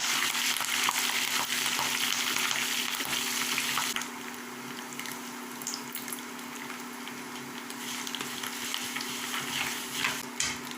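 Curry leaves fry in hot oil for lemon pickle, giving a steady close sizzle and crackle with faint stirring, loudest in the first few seconds and then settling to a quieter, even fizz.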